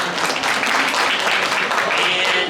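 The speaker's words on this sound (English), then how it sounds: "First All right, round of applause." Applause from an audience at an amusement park event, a dense steady wash of clapping that fills the short moment at fairly close range with no pause.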